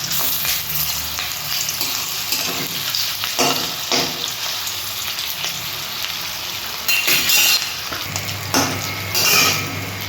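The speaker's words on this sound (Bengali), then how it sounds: "কোপ্তাটা ভাজা হয়ে গেছে, আমি এবার নামিয়ে দিচ্ছি।" Jackfruit kofta balls fry in hot oil with a steady, close sizzle and crackle throughout, broken by occasional stirring and the clink of a utensil against the pan.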